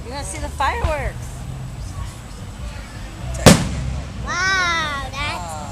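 One loud firework explosion booms overhead midway through, surrounded by excited chatter from a young child and an adult.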